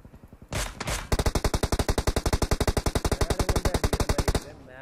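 Rapid automatic gunfire from PUBG Mobile during a last-zone fight, loud and close, with a short burst followed by a long steady string of about thirty evenly spaced shots and a brief voice at the start.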